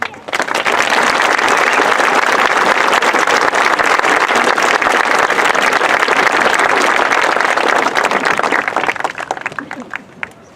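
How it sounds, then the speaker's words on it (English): A graduation crowd gives loud, sustained applause after a class president's speech, dense clapping filling about ten seconds before tapering off at the end. "Can we have another round of applause for Robert, please?"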